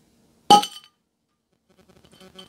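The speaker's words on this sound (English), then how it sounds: "There's a bottle, let's get popped and poured." A bottle of home-brewed beer opens with one sharp, loud pop and clink, followed by a short silence and then a faint, bubbly trickle as the beer pours.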